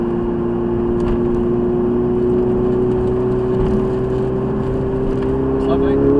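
A Ferrari 488 with rear-wheel drive pulls away on the Mallory Park circuit, heard from inside as a steady, loud engine drone that rises slightly in pitch, with a few faint knocks over it.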